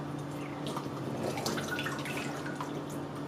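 Water from a can of tuna trickles and splashes steadily into a sink, with irregular drips and gurgles throughout.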